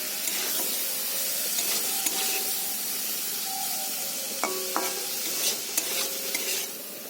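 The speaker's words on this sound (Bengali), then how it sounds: "চিংড়ি মাছটা ভাজা হয়ে গেছে" Prawns sizzle and crackle in hot oil, a continuous frying hiss with occasional scraping stirs and clinks of a utensil against the pan.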